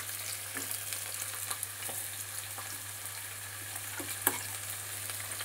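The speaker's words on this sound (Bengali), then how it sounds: "আমি একটু সাইডে পেঁয়াজটাকে সরিয়ে আমি একটুখানি রসুন কুচিগুলো দিয়ে দিচ্ছি।" Chopped garlic fries beside onion in a pan, giving a soft, steady sizzle throughout with faint scraping stirs and one brief clink near the end, quiet and close.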